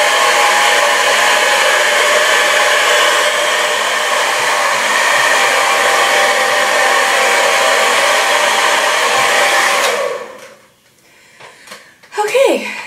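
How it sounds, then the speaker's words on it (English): A hair dryer blows steadily as hair is dried upside down, a loud continuous whirring hum for about ten seconds before it switches off, followed by faint rustling and a short bit of talk. "I'm just going to start blow drying my hair, and I'm going to blow dry it upside down"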